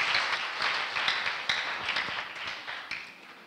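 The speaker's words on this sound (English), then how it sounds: "Clap for Jesus as you sit down." A church congregation claps together during a sermon, a dense, steady patter of many hands with sharp individual claps standing out, moderately loud and continuous throughout.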